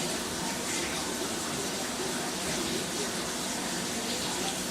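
A shower runs in the background while a pet is bathed, giving a steady, even rush of water that holds at moderate loudness throughout with no speech.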